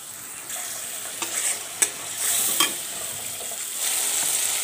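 Dried loitta fish frying with turmeric, coriander powder and salt, a steady close sizzle with a few sharp knocks of a spatula stirring in the pan.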